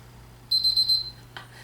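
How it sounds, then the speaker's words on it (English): A digital meat thermometer in a kitchen beeps its alarm in a rapid high-pitched burst of several pulses for about half a second, close and clear, followed by a brief clatter, with no talk. "sounds like your alarm in the morning"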